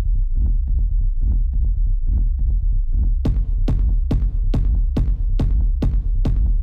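A heavily distorted kick drum thumps in a steady, fast pulse, starting as a muffled rumbling throb and then turning into sharp, punchy booming hits.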